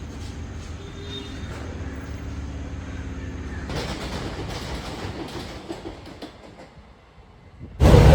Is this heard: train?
yes